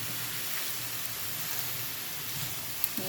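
Meat sizzling in a hot pan set on 7 while cooking filling for a quesadilla: a steady, dense frying hiss with faint crackles and a small clink near the end.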